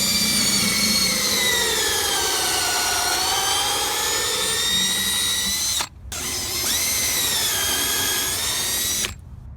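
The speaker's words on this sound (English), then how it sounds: "We're going to go ahead and pre-drill those holes as well." A power drill pre-drills screw holes in a mailbox post, whining loudly and steadily in one long run, then briefly stopping before a second shorter burst that ends abruptly.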